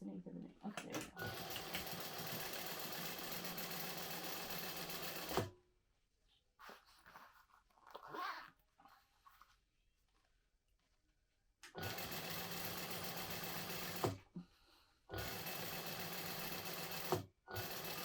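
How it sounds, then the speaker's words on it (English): A sewing machine stitches a quarter-inch seam in two long steady whirring runs, close and continuous, broken by a quiet stretch of handling and brief pauses. "you are going to sew that at 1/4 of an inch"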